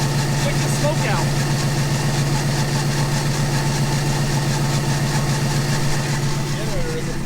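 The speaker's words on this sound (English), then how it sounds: "Generator isn't too happy" A struggling generator runs with a steady low droning hum and a slightly uneven pulse, close and continuous, with faint voices in the background.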